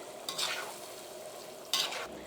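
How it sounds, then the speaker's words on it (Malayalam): A spoon stirs a Kerala chickpea curry (kadala curry) in a pan in two brief scraping sweeps with a soft sizzle beneath, fairly close and quiet, with no talking. "ഇതെല്ലാം കൂടിയിട്ട് നന്നായിട്ടൊന്ന് മിക്സ് ചെയ്യാം"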